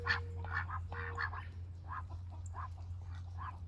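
Several ducks quack in short bursts, a few calls close together, then a steady string of quacks over a low, constant background hum.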